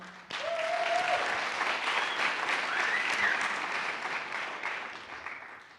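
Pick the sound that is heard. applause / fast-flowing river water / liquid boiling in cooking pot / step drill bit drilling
applause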